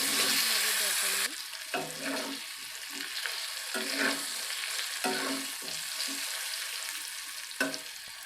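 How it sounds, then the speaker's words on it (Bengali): Pointed gourd pieces fried in oil left over from frying potatoes, a continuous close crackling sizzle with bursts of stirring and scraping in the pan, no talking. "এবার একই তেলে আমরা দিয়ে দেব পটলগুলোকে"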